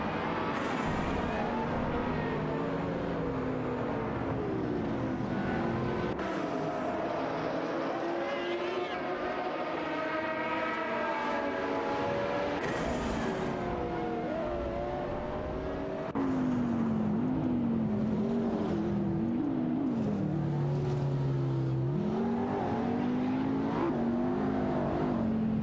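AI race cars in a racing video game, engines droning and revving continuously with shifting pitch through gear changes and acceleration, loud and steady for the whole stretch with no talk.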